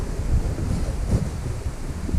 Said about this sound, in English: It is almost too windy today,